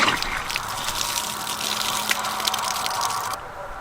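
Water rushing steadily through household supply pipes just after the supply is turned on, a continuous gushing hiss that holds even and fairly loud before dropping off abruptly near the end.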